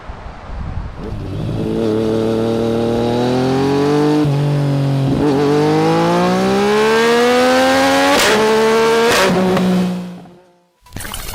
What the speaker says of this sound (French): voici mon essai de la Suzuki GSX 8S de 2023